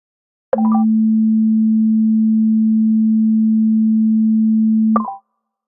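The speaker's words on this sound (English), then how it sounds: "the first sound you will hear is a low frequency and long wavelengths" A steady low-pitched pure tone, standing in for a long-wavelength wave, holds loud and unchanging for about four and a half seconds, with a brief click at its start and at its end.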